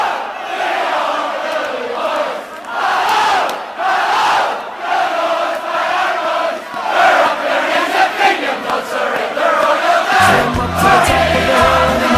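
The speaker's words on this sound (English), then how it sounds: "When the enemy's flag goes up in flames, the crowd roars its approval." A large crowd roars and shouts in approval at an 11th night bonfire in Northern Ireland as an enemy flag burns, a dense, sustained swell of massed voices with rising bursts, joined by rhythmic drumming or music near the end.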